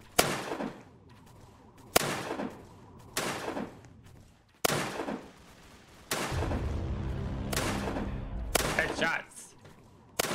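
Gunfire from a powerful gun in the Roblox game Zombie Rush, heard as a series of loud sharp blasts at roughly two-second intervals, followed by a sustained rumbling burst of rapid fire.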